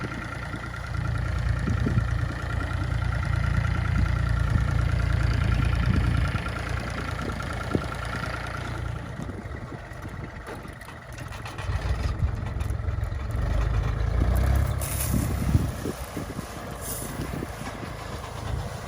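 A tractor engine droning steadily at close range while spraying a maize field, its low rumble rising and easing over time with faint mechanical rattles.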